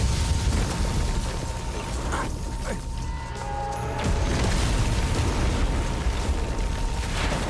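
Babylonia Tower crumbles in the anime Lazarus with a sustained, heavy explosive roar and rumble that stays loud and dense throughout, with faint tonal hums running under it.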